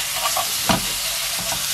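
Beef and green onion stir-fry in a well-coated pan with a dense, steady sizzle. Brief scraping stirs break through the frying, heard up close.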